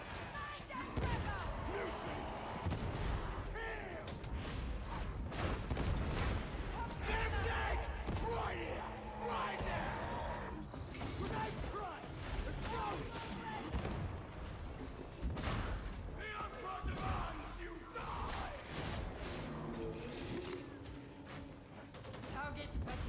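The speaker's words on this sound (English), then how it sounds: "Just gonna throw some grenades because I can't see anything." Grenade blasts and heavy gunfire in a busy combat video game, dense and loud throughout, with booming impacts recurring under a constant battle din and some talk.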